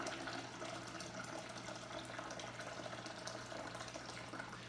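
Wort drawn from the spigot of a brewing vessel into a pot is poured back over the grain bed, a steady quiet trickle and splash of liquid running without a break and heard on its own.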